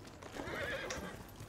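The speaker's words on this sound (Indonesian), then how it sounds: "Oke, okay, ayo kuda." A horse in the Ghost of Tsushima video game whinnies faintly while its hooves clop steadily in a gallop.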